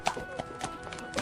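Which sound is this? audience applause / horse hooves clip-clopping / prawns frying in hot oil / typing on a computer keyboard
horse hooves clip-clopping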